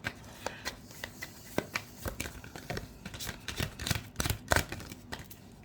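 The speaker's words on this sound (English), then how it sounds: "so it's difficult to shuffle." Tarot cards being shuffled by hand, a slightly sticky deck giving irregular bursts of riffling and slapping snaps, close and fairly quiet, with no talking.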